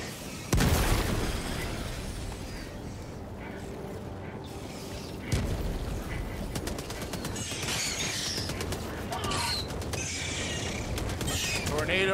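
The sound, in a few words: grenade explosions in video game Helldivers 2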